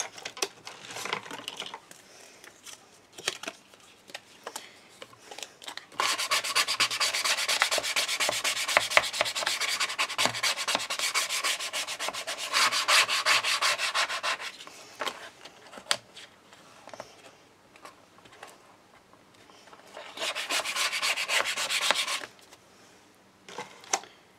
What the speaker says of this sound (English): give it a good burnish as well